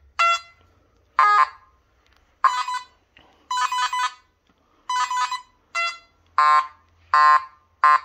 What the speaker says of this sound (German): Also eindeutig ist der schon mal hier am Piepsen.